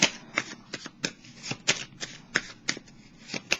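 Tarot cards shuffled by hand in a quiet room, a run of crisp riffling bursts and soft slaps in an uneven rhythm, close and clear with no talking.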